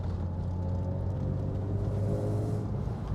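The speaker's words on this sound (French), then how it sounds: "Le moteur 6 cylindres, il faut savoir qu'il est très très souple. Là je roule à 1500 tours." A BMW E36's smooth six-cylinder engine cruises at about 1500 rpm, a steady low drone and rumble from inside the car with no surges or jerks, heard alone without talk.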